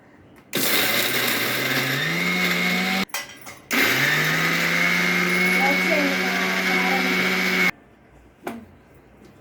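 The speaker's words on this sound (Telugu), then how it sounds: "వేసుకొని మిక్సీ పట్టుకుందాం" A mixer grinder grinding spices and salt for a bitter gourd chili powder whirs loudly in two long runs that spin up and stop, with a brief pause between them.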